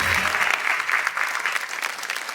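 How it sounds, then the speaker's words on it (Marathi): An audience at a women's game show breaks into loud, steady applause that holds its dense clapping throughout the short stretch. "एकदा जोरदार टाळ्या होऊन जाऊ देत"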